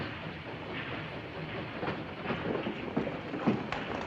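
A passenger train waits at a station in a black-and-white wartime film, giving a steady low rumble with faint clanks and knocks building toward the end, distant and unaccompanied by voices.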